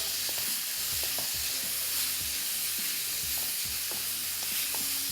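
Chicken for shish taouk fries in a pan over high heat while being stirred, a constant loud hissing sizzle with repeated scraping and knocking strokes of a utensil close by.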